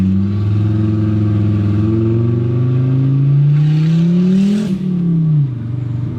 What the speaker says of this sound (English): that also had a turbo 5-cylinder in it, and it sounds just like this